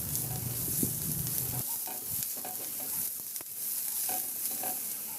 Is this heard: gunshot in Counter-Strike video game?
no